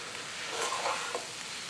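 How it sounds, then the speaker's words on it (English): Ground beef and onions frying in a skillet, a steady soft sizzle with faint stirring scrapes, close and continuous with no voices. "We have to cook this beef just until it is no longer pink."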